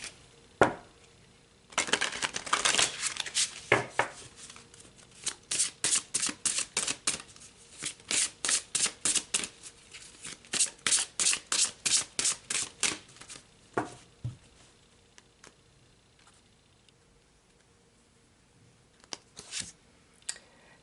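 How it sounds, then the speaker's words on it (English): Tarot cards are shuffled in quick rhythmic bursts of crisp riffling and tapping, repeated many times over about twenty seconds, close and clear with no talk. "let's pull one final card"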